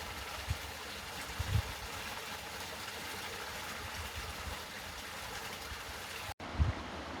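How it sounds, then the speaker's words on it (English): River water flows steadily in the open, a soft continuous broadband rush with a few faint low knocks and thumps, heard up close with no talking. "The water is definitely flowing stronger in the river. I can hear it upstream also."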